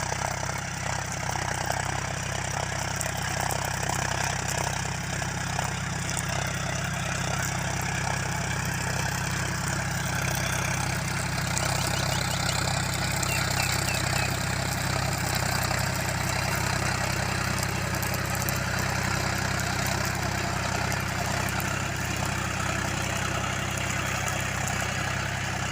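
John Deere 5050D tractor pulling a plough through medium soil at 1200 RPM, a steady, continuous diesel engine drone with a deep low rumble that holds unbroken throughout.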